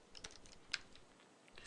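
A computer keyboard is tapped while code is written: a short run of light, uneven keystrokes, close and fairly faint, with no talking.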